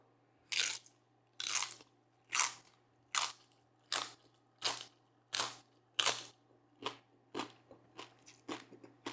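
Close, loud crunching bites into crispy roast pig lechon skin at a birthday mukbang, about a dozen sharp crackling chews in a steady rhythm with no talking.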